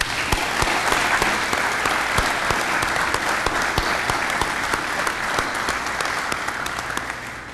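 Audience applauding award recipients at a police awards ceremony in Joliet, a full, sustained round of many hands clapping at a steady level, tapering slightly toward the end.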